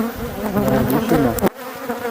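Dense, steady buzzing of a bee colony close by while frames are lifted from a hive during the making of an artificial swarm, with a soft knock partway through and the hum continuing after.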